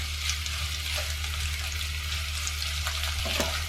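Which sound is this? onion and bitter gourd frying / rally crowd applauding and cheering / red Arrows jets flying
onion and bitter gourd frying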